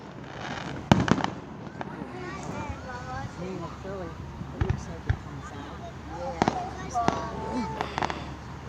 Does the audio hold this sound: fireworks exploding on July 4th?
yes